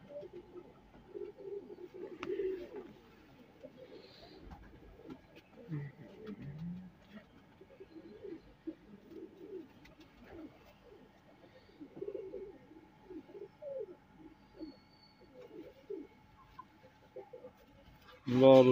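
Pet high-flying pigeons cooing softly in a loft, low intermittent coos close by while someone talks over them in Hindi, ending in a brief louder rustle.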